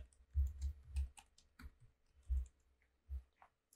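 Email and password tapped out on a computer keyboard, a close, quiet series of irregular key clicks in small bursts with brief pauses between.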